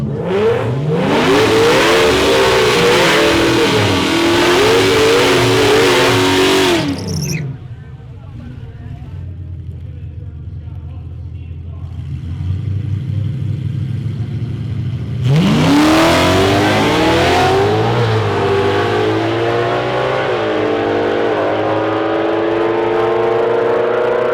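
A Pro Charged S550 Ford Mustang drag car revs loudly and launches down the strip at Ford Nationals, its engine roaring with rising pitch, fading away, then another loud engine surge builds near the end.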